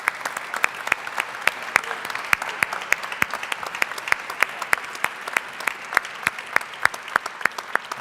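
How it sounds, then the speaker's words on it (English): Modest audience applause at a solar finance event, a thin, scattered patter of individual claps in a steady rhythm, fairly close and without talk. "Another round of applause for them."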